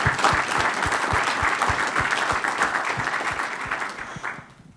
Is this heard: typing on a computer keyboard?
no